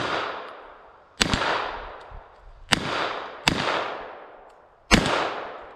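Four sharp gunshots from an MPA Defender Mac 11 pistol fired at a target, each a loud close crack with a long fading echo, spaced irregularly with no talking.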